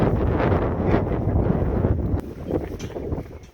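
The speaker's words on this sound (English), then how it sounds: "Blizzard-like conditions, very windy, very cold." Strong gusting wind in a New York City snowstorm in Jamaica, Queens, a loud steady roar buffeting the microphone, easing slightly partway through, with no voices.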